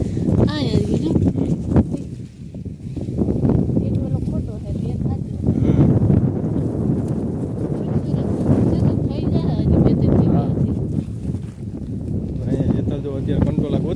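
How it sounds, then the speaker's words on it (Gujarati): Strong gusts buffet the microphone with a loud low rumble throughout, while people talk underneath. "પવન બહુ છે ભાઈ જોરદાર પવન છે"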